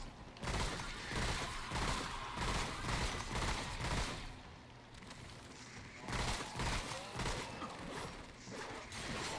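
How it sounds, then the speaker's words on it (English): Enemy gunfire in Remnant: From the Ashes during a boss fight, repeated bursts of rapid shots coming in waves, fairly loud and dense with scattered impacts and occasional talk. "stop shooting at me."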